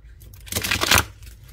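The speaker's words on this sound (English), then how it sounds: "Let's shuffle, give it a good shuffle." A brief riffle of an oracle card deck being shuffled, a fast crisp flutter lasting under a second, close and fairly loud.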